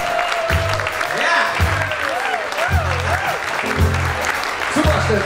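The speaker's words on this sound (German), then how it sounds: "Applaus für den Steffen von der Technik." A concert audience applauds and cheers loudly in a sustained burst, with voices calling out over the clapping and low music or stage sounds underneath.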